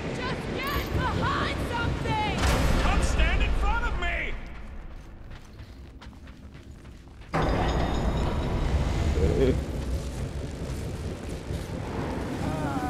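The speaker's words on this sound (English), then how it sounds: "Your feeble body cannot overpower such tremendous gusts!" Strong wind gusts roar in a Guardians of the Galaxy video game, a loud broadband rush that surges, dips for a few seconds, then returns abruptly with mechanical whirs and game voices over it.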